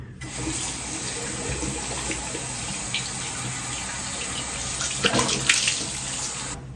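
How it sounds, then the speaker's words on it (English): Tap water runs steadily into a sink during face washing, a continuous close splashing flow with a few brief louder spatters near the end. "let me just wash my face"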